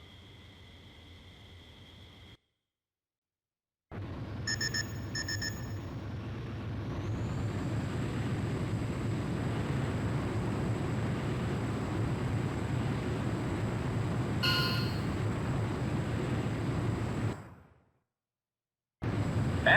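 Jet fighter engine in the Ace Combat game, a steady loud roar that builds and holds for many seconds with a whining tone rising above it, then cuts off briefly near the end.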